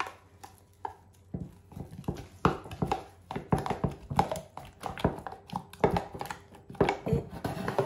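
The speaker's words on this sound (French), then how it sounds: "Je mélange." Spiced fish and vegetables with cream, salt and a little garlic being stirred and mixed by hand for a gratin, giving a run of close, irregular soft clacks and wet knocks of utensil against bowl with no talk.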